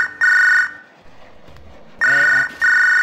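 Electronic telephone ring from the wrestling video game MDickie's Wrestling Empire, two loud bursts of trilling tones separated by a short pause, sounding alone.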